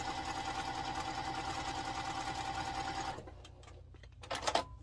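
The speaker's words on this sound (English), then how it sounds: "We're just going to sew on both sides of these two lines here" A sewing machine stitching a quilt sampler block runs in a steady fast whir for about three seconds, close and clear, then stops, leaving a few faint handling clicks.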